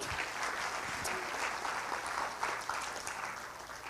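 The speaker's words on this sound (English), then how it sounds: "Let's just clap our hands." A church congregation claps hands together during a Christmas service, a steady, even patter of many hands, moderately quiet, with no speech over it.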